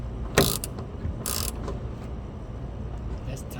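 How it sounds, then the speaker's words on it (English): A ratchet wrench clicks in two quick bursts while loosening a 10mm screw on a vehicle's rear tail light area, close and crisp over a low background rumble. "this screw right here with a 10mm. I'm gonna unscrew this first."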